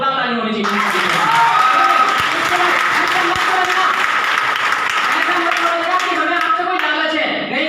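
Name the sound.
audience clapping at a talk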